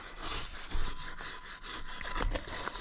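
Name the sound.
scrubbing Ford 460 engine valves clean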